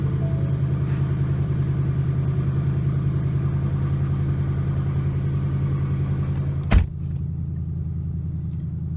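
A 2018 Mustang GT 5.0 V8 with a 10R80 transmission idles on the stock tune with a steady, throaty rumble close by, a brief clunk partway through, then keeps running evenly to the end.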